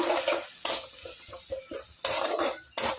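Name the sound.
stirring and frying green chilies with garlic paste in a pan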